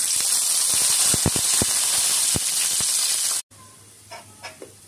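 Onions and curry leaves frying in hot oil for an Indian ash gourd and moong dal dish, giving a loud steady sizzle with sharp crackles for about three seconds, then cutting off to a quieter background with faint clinks.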